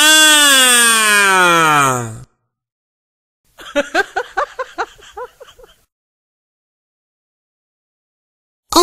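A voice imitates a wailing siren with a long rising-and-falling tone, then after a pause gives a rapid string of short, loud vocal bursts.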